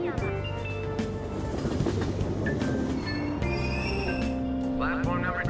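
Subway train at a station in the video game Persona 5 Royal, a steady rumble of the carriage with brake squeals and tonal chimes, while a station announcement voice speaks over it.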